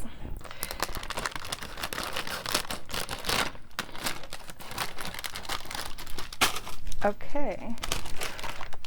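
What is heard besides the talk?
opening the packaging of a new Ferrero Rocher product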